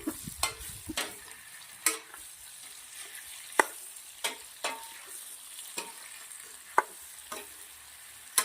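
A spinach khandvi mixture being stirred in a pan, with a spoon scraping in regular strokes about every half second over a steady close sizzle.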